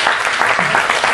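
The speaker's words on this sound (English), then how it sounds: "Big round of applause." Audience applause after a talk on future food system strategies, a brief, dense wash of continuous clapping from a crowd.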